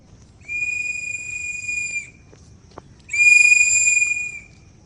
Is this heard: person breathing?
no